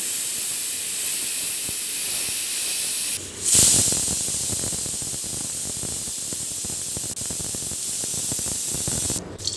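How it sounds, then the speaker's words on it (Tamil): Pressure cooker whistle releasing steam in a home kitchen while cooking for pani puri, a continuous loud hiss with a sharper burst of venting around the middle, steady throughout. "இப்போ அதுக்குள்ளே விசில் வந்துருச்சு."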